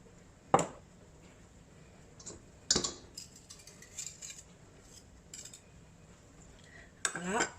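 A spoon stirring butter, almonds and praline paste together in a bowl, heard as a few sparse, sharp clinks and light scrapes against the bowl with quiet pauses in between.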